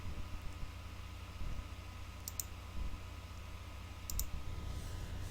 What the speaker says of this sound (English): Let's right click that one again and get a color on it.